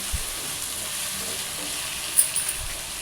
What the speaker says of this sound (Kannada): ಇವಾಗ ಟೊಮೆಟೊ ಚೆನ್ನಾಗಿ ಫ್ರೈ ಆಗಬೇಕು, ಅಲ್ಲಿ ತನಕ ಫ್ರೈ ಮಾಡ್ಕೊಳ್ಬೇಕು.